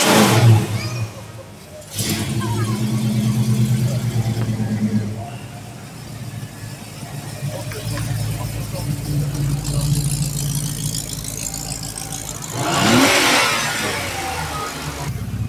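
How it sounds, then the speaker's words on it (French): A six-cylinder race car engine revs hard and roars close by at a three-hour race, rising and falling in pitch with bursts of acceleration and a loud surge near the end. "Il a du sens ce 6 cylindres."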